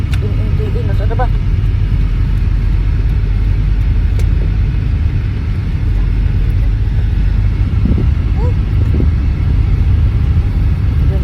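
Inside an old car on the move, a steady low engine and road rumble drones throughout, with people talking over it in the cabin.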